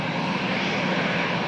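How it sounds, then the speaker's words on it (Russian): An airliner named after Musa Jalil lands at Kazan's Tukay airport, its engines a loud, steady, broadband roar with no voices. "самолет имени Мусы Джалиля садится в аэропорту имени Тукая."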